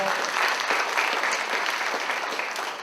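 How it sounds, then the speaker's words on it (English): An auditorium audience at a comedy show gives a round of applause, a dense, steady wash of many hands clapping at once, loud and sustained throughout with no voices rising above it. "You can give them a round of applause for the show."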